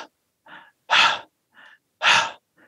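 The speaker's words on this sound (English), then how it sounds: "I'm going to breathe a little bit into the microphone" Fast breathing close to the microphone, about 50 breaths a minute: two strong, breathy inhalations or exhalations alternate with softer, shorter breaths in a quick, even rhythm, loud and alone.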